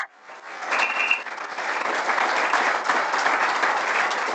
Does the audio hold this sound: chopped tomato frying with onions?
no